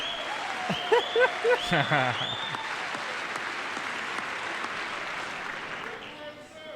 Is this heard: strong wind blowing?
no